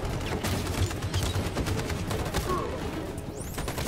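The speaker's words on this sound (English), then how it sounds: "Covering fire. Stand by. Cover fire." Sustained covering gunfire in Detroit: Become Human, a dense fusillade of overlapping shots rattling continuously at close range, with a brief voice briefly rising over it.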